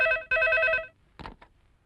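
A telephone rings loudly in two quick bursts of an electronic tone, then falls quiet apart from faint, brief sounds.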